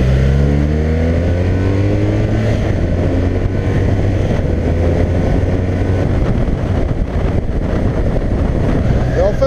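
BMW R 1200 R motorcycle engine while riding, a continuous close drone with rising and falling revs under steady wind rush, a rider's voice talking over it.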